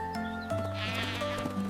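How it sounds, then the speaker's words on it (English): Sheep bleat on a farm field, several overlapping, drawn-out wavering calls that are loud and close, one following another with almost no pause. "Mom, the sheep are running everywhere in the field."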